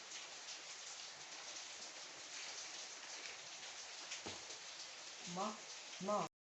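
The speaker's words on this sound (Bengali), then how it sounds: "দেখো বাইরে বৃষ্টি হচ্ছে।" Steady rain falling outside under a dark, heavy overcast sky, a continuous even hiss across the whole stretch, with a couple of brief louder knocks near the end.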